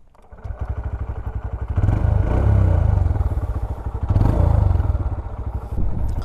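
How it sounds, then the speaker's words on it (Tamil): A Honda CB Hornet 125 motorcycle, 2025 OBD 2B model, starts up and settles into a loud, close exhaust idle, with its throb swelling twice as the throttle is blipped. "எக்ஸாஸ்டோட சவுண்டெல்லாம் பார்க்கும்போது நல்லா ஸ்மூத்தராகவே இருக்குங்க"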